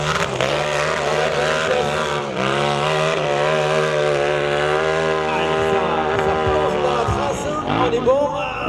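Motorcycle engine straining on a steep mountain hill climb at Arette, a steady loud drone with harmonic whine rising and falling through the run, a commentator talking over it and a brief burst near the end.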